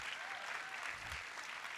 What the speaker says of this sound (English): Another round of applause for Beyond Measure and Monica Moore-Smith.